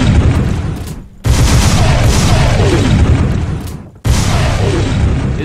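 Energy shotgun fired in Fallout 4, the Blade Runner shotgun, unloading two loud, booming blasts that roll on with crackling, sustained explosive noise, close and filling the mix.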